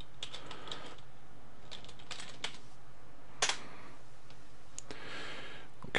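Fingers type on a computer keyboard in short clustered bursts of clicking keystrokes, close by, with pauses between bursts and one sharper louder key strike midway, no talking.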